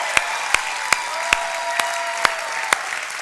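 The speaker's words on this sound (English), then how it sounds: "I just said your name and I get applause." Church congregation clapping in a slow, steady beat, with about seven distinct, fairly sharp claps spread evenly over a few seconds above a low background hum; no one speaks.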